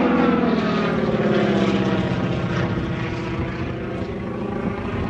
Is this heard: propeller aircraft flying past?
yes